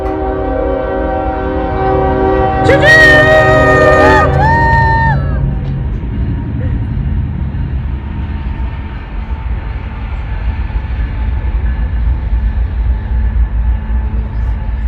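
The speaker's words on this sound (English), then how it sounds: "Here comes a train." A train passes outdoors near a crowd, sounding a loud multi-tone horn blast for a couple of seconds, followed by a steady rumble of rail cars rolling by for the rest of the stretch.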